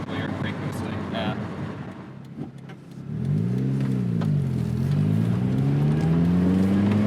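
A turbocharged NB Mazda Miata engine revs up and holds a rising, steady drone while brake boosting, loud and close, with people talking quietly over the start.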